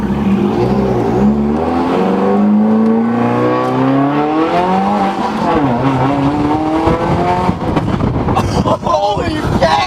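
Subaru WRX (2015 or later) fitted with a catless downpipe, engine revving and pulling hard with rising, sweeping tones, loud and close, as excited voices talk over it.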